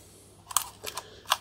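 An old, well-used film SLR camera with a faulty shutter gives three quick mechanical clicks of shutter and mirror, close and fairly faint, with no talking.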